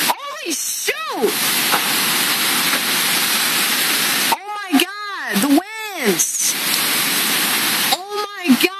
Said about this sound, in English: it's dumbass pouring!